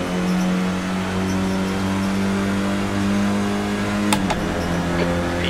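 A Renault Clio Cup race car in Assetto Corsa at Autodrom Most, its engine droning loud and steady at high revs, then shifting pitch briefly near the end before holding on.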